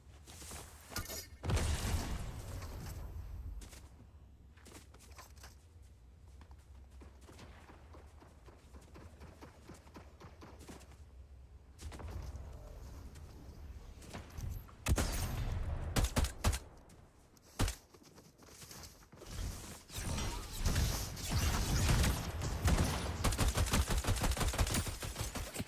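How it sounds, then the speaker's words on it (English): Gunfire rattles through a Fortnite match, with bursts of machine-gun and rifle shots scattered across the clip, growing louder and denser toward the end, with no one talking. "Is somebody on the hill shooting at us or shooting at them?"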